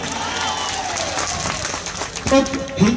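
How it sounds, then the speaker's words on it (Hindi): Audience at the Cuttack Bali Jatra fair clapping under a busy outdoor crowd murmur, applause rising in scattered bursts toward the end, with voices talking over it. "जोरदार ताली जाओ"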